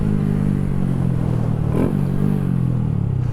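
A Honda Grom motorcycle fitted with a high-compression piston, cam and tune runs steadily close by on a cold test ride, its engine drone holding a continuous, even note with no voices.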